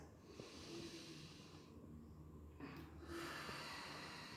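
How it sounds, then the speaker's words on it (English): A COVID patient in physiotherapy does an intercostal breathing exercise, with quiet, sharp nasal inhalations and breaths heard close up over a faint hiss, no talking. "This is called intercostal breathing."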